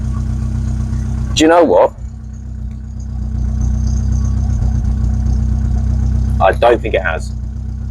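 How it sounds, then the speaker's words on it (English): A Rover 25 GTI engine idles steadily with a slight misfire, a continuous low rumble running throughout, while someone talks briefly near the start and again near the end. "Did it fix that misfire?"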